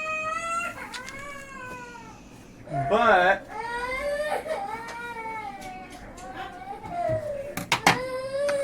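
Young daughter crying in a dramatic outburst in a home kitchen, wavering wails and whimpers rising and falling close by, with an adult voice briefly speaking over part of it.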